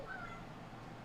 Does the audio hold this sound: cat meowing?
yes